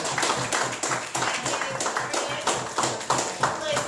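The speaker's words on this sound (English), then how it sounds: "A round of applause for Gary Myrick" Clapping from a live audience welcoming a songwriter on stage, quick rhythmic hand claps that come through moderately loud, with talk running over them.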